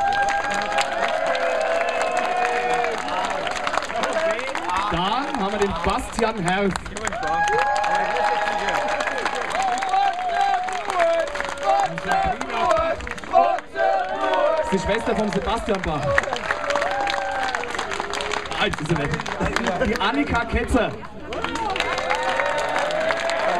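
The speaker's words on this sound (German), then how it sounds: "Ich bitte auch einen kleinen Applaus für jedes Kind." An audience at a comedy and metal show claps for children as each is introduced by name; the applause swells and fades in bursts under a man announcing through a microphone.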